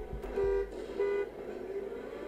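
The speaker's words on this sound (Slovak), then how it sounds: "Mi to vôbec nevadí, že trúbim." Car horn in the Trackmania Nations Forever racing game gives three short honks, the first two loud and steady, the last a brief fainter toot, over a low engine drone.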